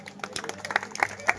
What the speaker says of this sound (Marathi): एकदा जोरदार टाळ्या होऊन जाऊ द्यात.